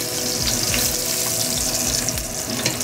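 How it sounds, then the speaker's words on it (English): Steady frying sizzle of pork Boston butt searing in a pot, with a hissing, crackling texture, continuous and close, no voices. "You can hear that nice sizzle."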